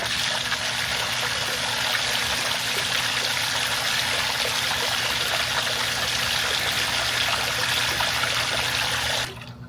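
A Gold Fox high banker runs with water circulating through it during gold prospecting in New Mexico, a loud steady rushing and trickling flow under a constant pump hum that cuts off abruptly at the very end.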